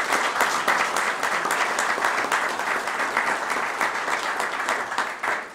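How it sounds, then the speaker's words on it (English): Sustained, loud applause from an audience at a veterans recognition breakfast, clapping steadily and evenly for several seconds without pause. "Please give the family a round of applause"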